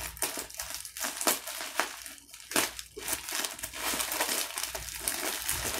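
Plastic shipping package being cut open during an unboxing, with steady close crinkling and rustling of plastic film, several sharper snips and tears standing out throughout.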